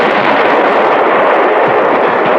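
Cartoon cannon fire in Underdog during a battle among rocks forms a loud, continuous roar of dense booming blasts with no pauses or voices.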